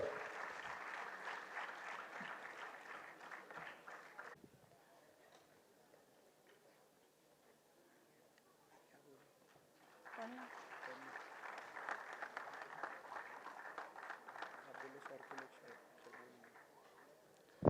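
An audience at a medical college annual function in Bhopal applauds in steady rapid clapping, fading to a quiet lull midway before another burst of clapping resumes; faint voices sit underneath.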